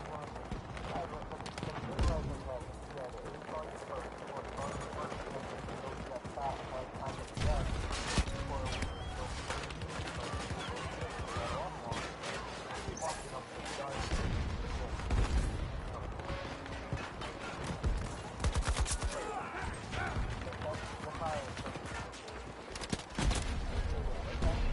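Battlefield 2042 gameplay with steady background gunfire, including DMR rifle shots, amid continuous battlefield clatter, while someone talks over it most of the time.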